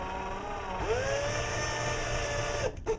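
An electric drill with a large bit bores out the metal posts of a diecast Hot Wheels 1983 GMC Vandura 4x4 toy truck, giving a close, high whining motor that rises in pitch as it spins up, then cuts off abruptly.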